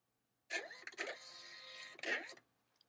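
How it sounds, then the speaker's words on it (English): A NELKO PM220 portable thermal label printer whirs close and fairly quietly for about two seconds, feeding and printing a label with slight stuttering pulses before stopping. "Okay, let's try printing this."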